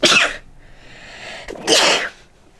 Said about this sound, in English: The sneeze.